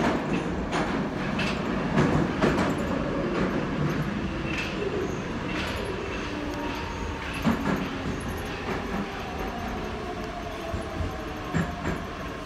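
A metro train rumbles through Proletarskaya station on the Nevsko-Vasileostrovskaya line, with continuous rolling noise and repeated clickety-clack rail clicks and squeals, fairly close and steady throughout.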